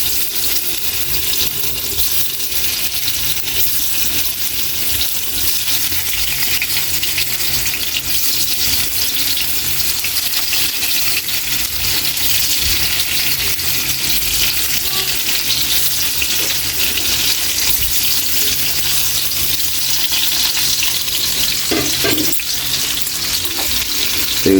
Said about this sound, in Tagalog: punta na natin ang ating pinainit na mantika para ma-fried na natin yung tofu